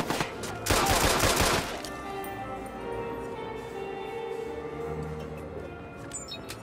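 Enemies fire rifles in the video game Watch_Dogs, with a dense, loud burst of rapid gunfire at the start that gives way to quieter ambient game sound.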